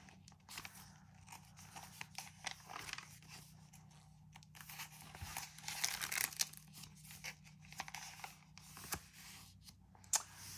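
Pages of a completed B6 Stalogy journal that are stuck together are peeled apart, giving faint, close crinkling and tearing crackles in short irregular bursts, with no talking.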